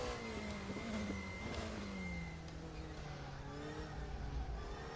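The Porsche 918-derived hybrid hypercar engine in RaceRoom at Daytona revs and whines near and steady, pitch rising then sliding down through gear changes, with a deeper rumble building near the end.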